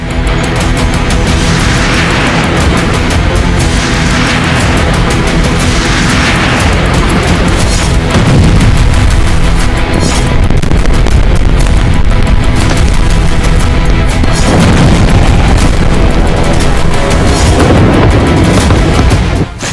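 Heavy booms and blasts from Israeli airstrikes on southern Lebanon, a dense, continuous barrage of loud rumbling explosions with no voices, swelling in intensity partway through.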